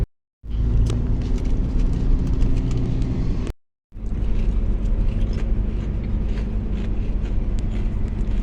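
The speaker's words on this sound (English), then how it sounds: "I'm back to the car and right now we are heading home, and Princess is all right" A car drives home with a steady, loud cabin rumble of engine and road noise, broken once by a brief dropout before continuing unchanged.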